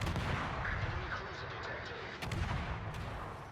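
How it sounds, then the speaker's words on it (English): Heavy naval guns aboard the Swedish warship Öland boom out in repeated salvos in a naval battle game, deep thudding blasts rolling over a constant rumble, with sharper cracks landing near the end. "Now here's an opportunity to see what the guns can do."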